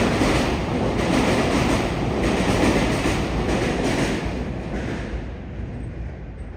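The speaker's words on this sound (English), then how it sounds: "Tobu Line train." A Tobu Line train passes near Tokyo Dome in central Tokyo, loud and close, a steady rushing roar with rhythmic wheel clatter that slowly thins out as it moves away.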